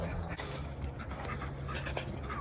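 A dog pants quickly and steadily nearby, a continuous breathy rhythm running through the clip with a person's voice mixed in.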